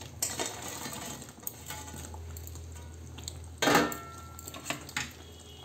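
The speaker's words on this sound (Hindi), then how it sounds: "अब हम इसमें सारा फ्राई किया हुआ चिकन डाल देंगे।" Fried chicken pieces for restaurant-style chilli chicken go into a pan of simmering gravy, a sudden clattering splash against the metal pan over a low, steady bubbling hum.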